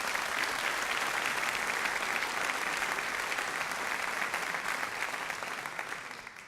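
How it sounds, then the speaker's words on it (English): An audience at a 2013 commencement ceremony gives the middle school faculty sustained applause, a thick, continuous roar of many hands clapping that fades slightly in the final second. "I would like to have the second round of applause to the middle school faculty"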